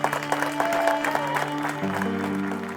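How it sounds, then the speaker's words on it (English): Applause from a gathered crowd of supporters, scattered claps heard over a sustained tonal music bed, short and moderately loud. "a big round of applause, everyone, for coming out today"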